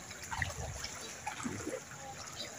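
Floodwater from a river after Typhoon Paeng, a steady trickling and splashing flow with scattered small drips, moderately loud and continuous, no talking.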